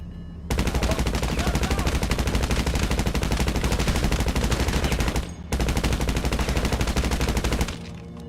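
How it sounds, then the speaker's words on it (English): Sustained automatic gunfire in GTA 5 Online as a whole magazine is emptied, a loud, dense rapid stream of shots running for several seconds, breaking off briefly, then resuming before stopping. "That was a whole mag dump."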